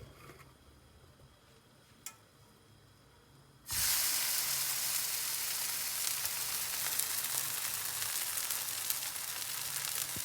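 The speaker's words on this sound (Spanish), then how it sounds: "Vamos a proceder a ponerla en el sartén, que ya está caliente." A homemade cheese arepa is set into a hot pan. After a quiet stretch with one small knock, a loud sizzle starts suddenly and keeps a steady hiss to the end.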